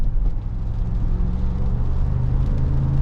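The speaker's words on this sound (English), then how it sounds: "the exhaust noise is actually not too bad" A 2023 Jeep Wagoneer under way, its engine and exhaust giving a steady low rumble and whir from inside the cabin, continuous and moderately loud with no talk.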